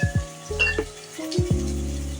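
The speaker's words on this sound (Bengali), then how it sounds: "সব কিছু দিয়ে ভালো করে নেড়ে চেড়ে মিশিয়ে নিচ্ছি।" Chicken, chili and onion frying with tomato ketchup and soy sauces, a short burst of sizzling with a few sharp spatula knocks and scrapes against the pan, close up.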